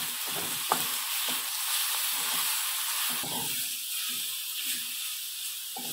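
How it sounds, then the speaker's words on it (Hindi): Chitau pitha, an Odia rice and coconut pancake, frying over a low flame gives a steady soft sizzle and hiss, with occasional light scrapes and taps of a spatula, and no talking. "आकु टिके लो फ्लेम रे भल के भाजी देबा।"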